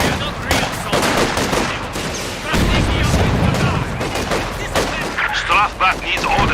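Gunfire in a war video game: dense, overlapping rifle shots and rapid machine-gun bursts with occasional heavier booms, while voices call out over the din.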